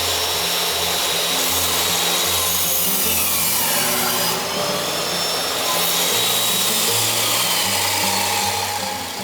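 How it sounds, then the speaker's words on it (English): A saw cuts through Japanese cypress wooden posts for an open veranda. The cutting is loud, close and continuous, a steady rasping whine of blade on wood that lasts the whole time with no speech. "Next, I cut the posts."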